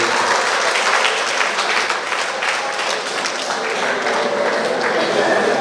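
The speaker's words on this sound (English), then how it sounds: "Another round of applause for the PA system operator." An audience at a monthly meeting of retired persons in Trinidad and Tobago claps steadily for the PA system operator, with dense, sustained applause filling the room throughout.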